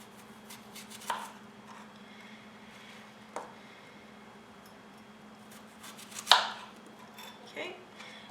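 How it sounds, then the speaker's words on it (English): An apple cut into thin slices for a deep-dish Dutch apple pie: a few separate, crisp knife strikes against a cutting board, spaced irregularly over a quiet room hum, with no talking. "I just slice it into small little thin slices like that"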